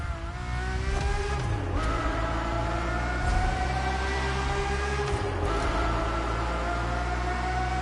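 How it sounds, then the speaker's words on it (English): Ferrari F50 with its naturally aspirated Formula One-derived V12 in The Crew Motorfest, a loud sustained engine whine rising and falling through gear changes, steady and close. "The F50's core is a normally aspirated V12 that came straight from a Formula One."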